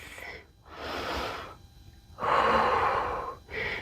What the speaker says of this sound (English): A few more rounds of breath.